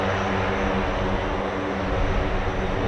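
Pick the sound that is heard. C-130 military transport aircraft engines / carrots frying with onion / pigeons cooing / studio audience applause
C-130 military transport aircraft engines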